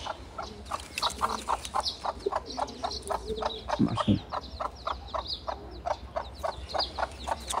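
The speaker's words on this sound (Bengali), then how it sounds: "এই যে এখানে একটা মুরগি আছে" A hen clucks in a steady repeating rhythm, close and clear, with a couple of louder low thumps midway.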